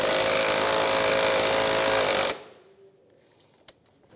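A 10 mm socket wrench loosening a hose clamp on the air intake of a 2015-2019 Hyundai Sonata, heard as a loud, fast, buzzing ratchet or power-driver whir that cuts off abruptly partway through, followed by quiet with a single sharp click.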